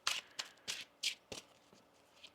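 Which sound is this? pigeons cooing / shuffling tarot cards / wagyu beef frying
shuffling tarot cards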